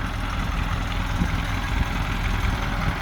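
A used truck's freshly rebuilt engine, with a newly checked fuel pump, runs in at a steady idle: a continuous low, throbbing rumble at even loudness throughout, with no voices.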